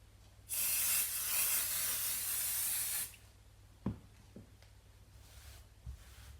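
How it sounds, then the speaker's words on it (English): Crafter's Companion fabric spray adhesive sprayed onto sewing fabric, one sustained hissing burst of about two and a half seconds, close and loud, followed by faint handling sounds. "you could use a bit of spray adhesive and spray these together if you want"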